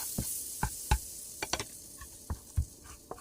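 Butter in a pan on low heat for frying banana fritters, a quiet sizzle under irregular sharp taps and scrapes of a utensil against the pan, no voices.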